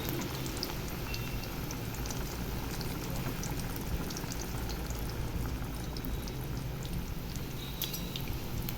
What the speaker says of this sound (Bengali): তারপর কুমড়োটা ভেজে নিচ্ছি